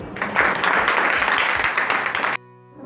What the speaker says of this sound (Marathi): सर्वांनी एकदा टाळ्या वाजवायच्या